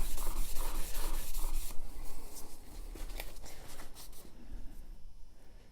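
A steel chisel is pushed back and forth across a sharpening surface, making close scraping rubs in a quick run of strokes that then thin out into fainter, irregular scratching, with no voices.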